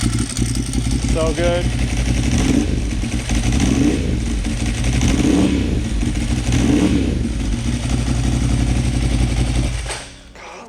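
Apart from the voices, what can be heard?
motorcycle dry clutch rattling while engine revs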